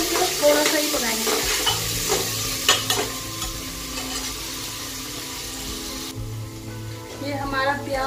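Chopped onions frying for matar pulao, a close, steady sizzle with repeated spatula scrapes and stirs through the whole stretch, plus a few clattering knocks against the pan.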